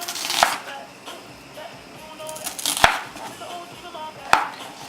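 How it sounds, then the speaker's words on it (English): A knife chops a white onion on a board in three sharp, separate strikes spaced about two seconds apart, close and crisp against a quiet kitchen background, with no speech. "I'm going to cut a little bit of a white onion"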